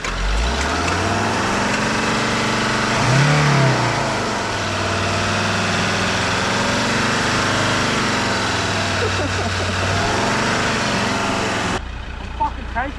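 A car engine runs loud and close on a backyard race track, its pitch rising as it revs, with muffled voices over the steady rumble.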